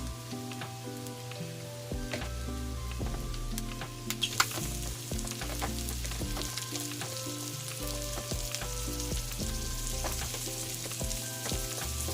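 Garlic and onion fry in a pan with a steady, dense sizzle, joined by occasional scraping clicks of a utensil; the sound stays close and even throughout with no talking.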